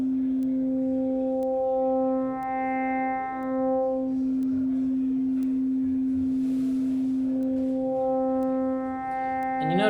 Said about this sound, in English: what's happening with FM, and it's probably a familiar sound, the FM tones